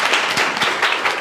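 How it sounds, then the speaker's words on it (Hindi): A classroom audience of tenth-grade students claps in a short, quick burst of overlapping hand claps, fairly close and lively. "ताली बजाइए।"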